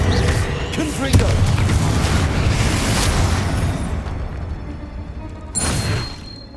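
Repeated blasting-spell explosions in the Hogwarts Legacy video game, a dense run of booming bursts over rumbling combat noise with a sharp blast near the start and another near the end.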